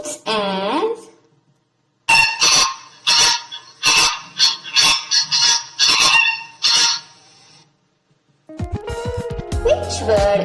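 Flamingo calls, a series of loud nasal honking cries in quick bursts, some clustered close together, with a voice speaking before and after.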